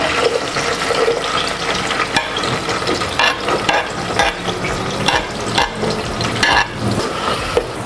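Onion goes into hot oil in a cooking pot and fries with a dense crackling sizzle, and stirring clatters and scrapes come through in bursts.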